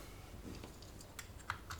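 Plastic parts of a clothes iron's water tank click into place during a repair, giving a few faint, quick clicks and snaps close by in a quiet room.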